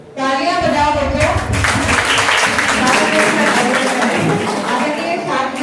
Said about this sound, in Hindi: तालियां बजाओ बच्चों